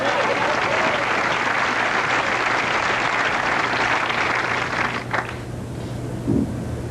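A crowd at a 1982 bowling event claps steadily for several seconds in a broad, dense wash of applause that thins briefly near the end, with no clear talk.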